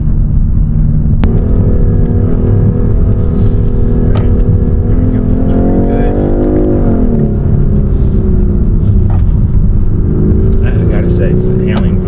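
A BMW 430i xDrive driven hard, its engine note climbing and swelling under acceleration, loud and close from inside the cabin, with a person talking over it.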